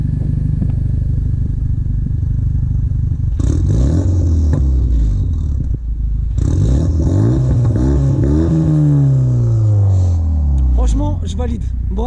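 A Renault Mégane 3 RS engine idles with a deep steady rumble, then is revved several times, each blip rising and falling loudly up close, with crackles on the overrun and voices talking underneath.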